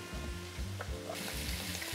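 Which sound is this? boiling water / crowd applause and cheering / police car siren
boiling water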